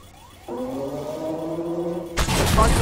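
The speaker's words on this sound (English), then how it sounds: "Sounds like this thing has a warning system when you're low in health." In the tank game Armored Warfare, a Chieftain Mk 6 sounds a steady, tonal low-health warning for about a second and a half, then a loud, harsh blast of gunfire or an explosion cuts in.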